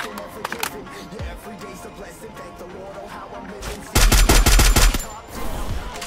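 Gunfire in the Free Fire battle royale video game, scattered shots under a player's talk, then a loud dense burst of automatic fire followed by lighter shots.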